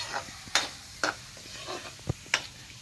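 A spoon stirs spaghetti sauce ingredients with cream in a pot, giving a few spaced scraping clinks and soft swishes at close range.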